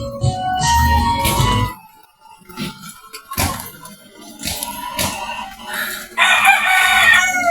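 A rooster crows loudly and close by, several drawn-out calls separated by short pauses, with some clucking and farmyard noise in between.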